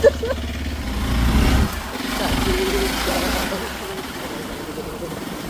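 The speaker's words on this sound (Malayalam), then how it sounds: "ഞങ്ങൾ രണ്ടുപേരും ബൈക്കിൽ കയറി ഇങ്ങനെ ബൈക്ക് എടുത്ത് പോകുന്നു" A motorcycle engine hums and revs while riding in Kerala, with a voice talking over the steady rumble.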